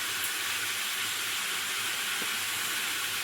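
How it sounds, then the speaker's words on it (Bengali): Garden pumpkin pieces frying in hot oil in a home kitchen give a continuous, even sizzling hiss that holds steady without pause. "একটু কুমড়োটাকে আগে ভেজে নিচ্ছি"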